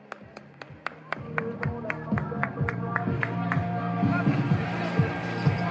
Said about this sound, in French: allez on l'applaudit également